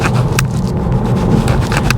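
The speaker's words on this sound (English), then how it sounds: "The garbage truck to our right." A garbage truck passes close on the right in Detroit traffic, a steady low engine rumble with broadband road and tire noise throughout and brief scraping clatters on top, heard from inside a nearby car.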